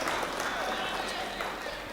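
Applause from an audience at a Hindi comic poetry recital (kavi sammelan and mushaira), a steady dense wash of clapping that fills the whole stretch at moderate level, with some voices mixed in.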